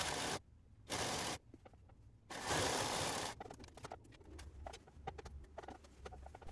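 A sewing machine stitches the side seam of a woven t-shirt with a 1 cm seam allowance. It runs in several short, loud bursts with pauses between, followed by light clicking and handling noises.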